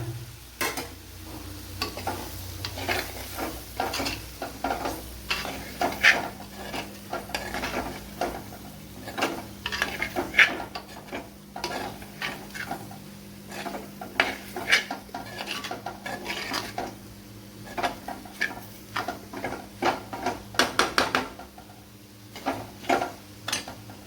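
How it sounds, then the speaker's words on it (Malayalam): Soya chunks fry in a pan while a spoon stirs them, giving repeated scraping clinks against the metal over a steady background sizzle, close up with no talking. "അപ്പോൾ ഇതിലേക്ക് നമ്മുടെ സോയ ചങ്ക്സ് ചേർത്ത് കൊടുക്കുക."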